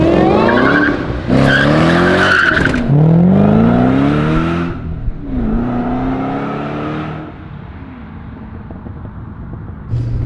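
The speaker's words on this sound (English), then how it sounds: "here we go for a cruise in my friend Michael's GT500" A 1967 Shelby GT500 driving hard: loud, close tire squeal in several long, wavering screeches over the engine note, fading toward the end into a quieter rumble.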